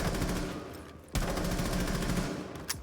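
The operator Buck's gun firing in the video game Rainbow Six Siege, sustained rapid automatic bursts, loud and close, with a brief pause near the one-second mark before the firing resumes.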